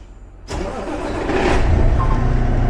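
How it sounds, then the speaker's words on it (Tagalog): A truck engine cranks and catches abruptly, then settles into a loud, steady idle that swells slightly as it runs, close by with no talk. "So you have to turn your truck on."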